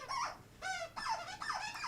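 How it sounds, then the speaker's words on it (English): A dog's squeaky toy squeaks in short repeated bursts, about four squeezes in quick succession, faint and somewhat distant in the background with no talking. "Squeaky toy."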